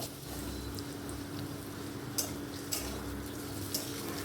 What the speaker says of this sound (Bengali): তেল গরম হলে তাতে ছোট ছোট করে ডুমো ডুমো করে কেটে রাখা আলু ভাজতে দিয়ে দিলাম